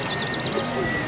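Several pigeons at a loft give soft, repeated coos alongside brief chirps, close by and steady over a murmur of background noise.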